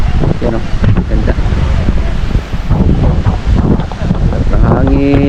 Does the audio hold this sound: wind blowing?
yes